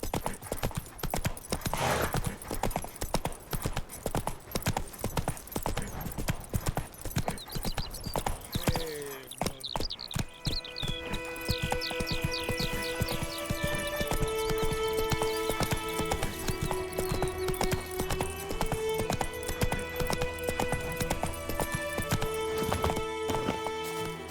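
Horse hooves clip-clop at a steady gallop in the Witcher 3 video game, close and prominent, with an occasional whinny and game music and effects layered over them in the second half.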